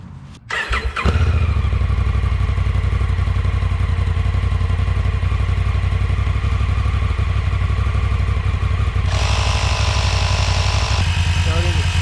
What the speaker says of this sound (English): Maybe I should turn the bike on to power the battery.